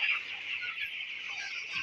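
Broiler chickens in a home poultry shed holding about two thousand birds cluck and chirp together in a dense, continuous chorus, close and fairly loud, with no voices.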